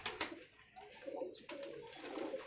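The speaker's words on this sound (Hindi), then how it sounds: "ये काफ़ी बड़े साइज का कबूतर है जी।" A large Rampuri-type pigeon coos softly in low, burbling phrases, close but faint, with a few brief rustles.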